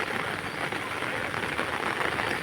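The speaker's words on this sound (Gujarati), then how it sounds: "કેટલો વરસાદ છે" Heavy rain pours down steadily in a continuous broadband hiss of drops hitting surfaces, loud and unbroken for the whole stretch, with no clear talk.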